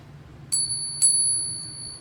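A silver coin is pinged twice. Each strike gives a bright, bell-like ring that hangs and slowly fades, the second half a second after the first, over quiet room tone.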